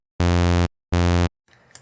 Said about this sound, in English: Without anything, this sawtooth sounds like this.